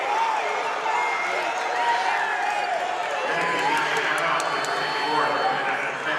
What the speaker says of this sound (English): The Menifee County crowd didn't like that call.